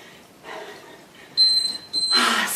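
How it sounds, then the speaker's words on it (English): An electronic timer sounds a few sharp, high beeps in quick succession, loud and close, followed by a burst of noise and faint background talk. "When it beeps, we get 10 seconds of rest"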